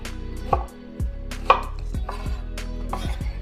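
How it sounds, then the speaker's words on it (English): A knife cuts vegetables into large chunks on a cutting board, several firm, close chops at an uneven rhythm, with no talking. "I'm just going to cut them in larger chunks like this"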